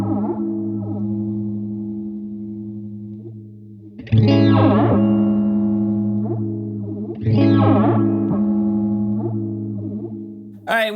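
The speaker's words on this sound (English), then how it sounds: "You can get some very awesome kind of swirly, chorusy kinds of sounds." Spaceman Aurora analog flanger pedal on an instrument, giving a swirly, chorus-like sweeping tone with two loud strummed attacks that ring out and slowly sweep, up close with no talking.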